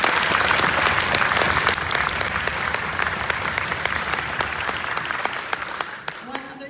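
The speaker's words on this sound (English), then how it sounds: "Can we give them a round of applause" A concert audience applauds the tech crew, a steady wash of many hands clapping that fills the space for several seconds before tapering at the end.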